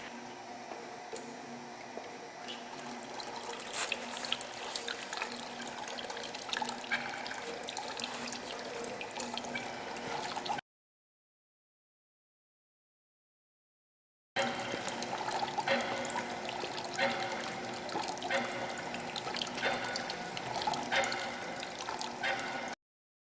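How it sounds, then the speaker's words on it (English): Water mixed with coal fly ash powder flows through a glass tube in a steady, trickling rush, continuous apart from one silent gap of a few seconds. "Mix fly ash powder with water and pass through the glass tube."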